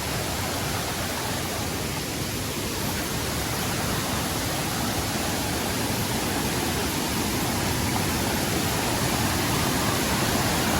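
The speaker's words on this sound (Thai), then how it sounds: "เป็นน้ำตกที่สูงนะทุกคนเนี่ย" A tall forest waterfall sends up a steady, loud rush of falling water, a dense and unbroken roar that holds evenly for the whole stretch with no voices over it.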